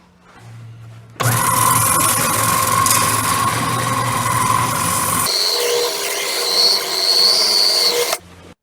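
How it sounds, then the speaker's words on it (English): Power-driven sanding drum spinning up and whining loudly as layered banjo rim wood is held against it, a sustained harsh grinding hum with shifting pitch that starts abruptly and stops after several seconds. "Then I can just rotate it around as the drum turns to sand it"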